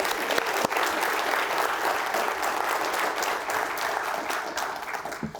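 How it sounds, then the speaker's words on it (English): Lecture-series audience gives a sustained round of applause, dense and even throughout, with no voices standing out above the clapping. "How about a round of applause to Cindy?"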